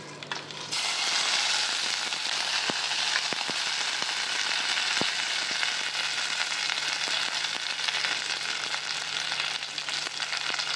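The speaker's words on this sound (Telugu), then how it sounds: "ఆయిల్ వేడెక్కింది, పోపు వేస్తాను." Tempering spices (cumin, mustard seeds, dried red chillies) hitting hot peanut oil for a Telugu tamarind-leaf and moong dal chutney, giving a loud, steady broadband sizzle with scattered sharp pops and crackles throughout.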